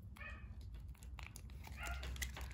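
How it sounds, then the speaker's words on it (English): Neighbor's dogs barking faintly in the distance, a few short yips and barks over a low background rumble, with no talk. "The neighbor's dogs are barking again."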